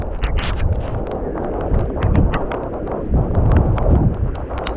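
Strong wind gusting during heavy rain, loud and close, with steady rumbling buffeting across the whole stretch.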